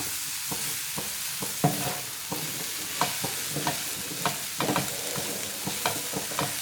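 Onion and tomato sautéing together in a pan for tawa chicken fry, a steady sizzle with repeated scraping stirs and small clinks spread through the stretch, no voices.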